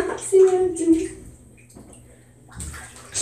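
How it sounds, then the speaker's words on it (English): A person rolls around and splashes in a bathtub, with sloshing water bursts at the start and again near the end, close and fairly loud, while people talk nearby. "I'm going to roll around in the bath because I am bored."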